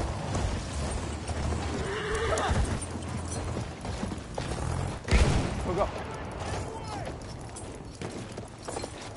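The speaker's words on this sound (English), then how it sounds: "I'm coming with the horse." Horse hooves clip-clopping at a gallop and a whinny in the Battlefield 1 video game, with gunfire in the background and players talking over the action.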